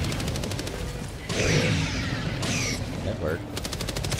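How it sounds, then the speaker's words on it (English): Rapid machine-gun fire in Helldivers 2, dense bursts of shots rattling loudly at the start and end, with in-game voices and effects in between. "I'm about to bring down my machine gun"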